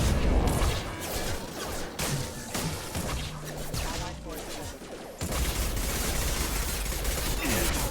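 Dense gunfire in the video game Mass Effect 2, a steady barrage of shots and impacts layered over a loud, busy combat soundscape with no quiet gaps.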